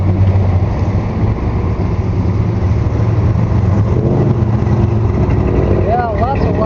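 Loud car exhausts rumble steadily at an outdoor car cruise, a continuous low engine drone with a voice talking over it near the end.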